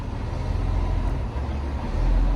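A garbage truck rolls past, a heavy low rumble of engine and road noise that stays steady and swells slightly louder toward the end, with no voices over it.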